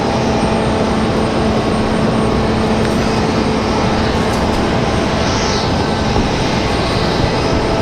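An Icelandair airliner at Raleigh-Durham airport produces a constant, loud jet engine rumble with a faint whine on top, steady throughout and free of talk.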